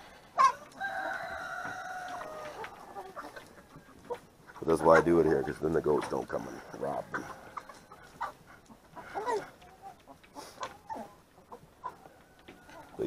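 Chickens cluck and a rooster crows at morning feeding in a frosty yard, with loud bursts near the middle; someone talks over and between the calls.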